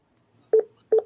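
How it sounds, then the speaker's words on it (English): Two short electronic phone keypad beeps, close and clear, spaced about a third of a second apart against near silence, from someone texting on a phone. "Somebody's texting on their phone."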